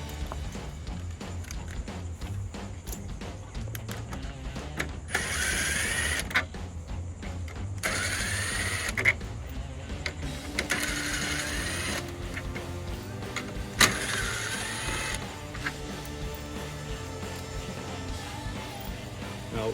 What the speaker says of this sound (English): Now you have 4 10mm bolts to take out.